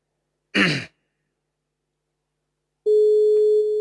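A telephone call rings out waiting for an answer: after a brief throaty breath or sigh and a pause, a steady, single-pitched ringback tone starts and holds loud and clear to the end.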